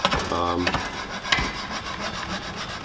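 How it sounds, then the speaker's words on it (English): Hand file rasping along a wooden tool handle on a lawn edger being restored, a steady close rubbing scrape that runs the whole time with a couple of sharper strokes. "I'm using a file."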